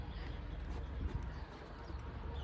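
A horse pulls a cart along a village road, its hooves clip-clopping in a steady rhythm close by under a constant background hum. No one speaks.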